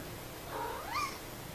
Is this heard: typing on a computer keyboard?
no